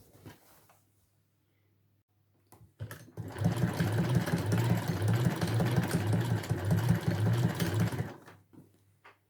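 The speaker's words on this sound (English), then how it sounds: "Pop it back under your needle, and then you're ready to stitch it down the next edge." A sewing machine stitches down the next edge of a scrappy basketweave table runner. Its steady, close motor whir runs continuously for about five seconds, then stops, with a few faint handling knocks before and after.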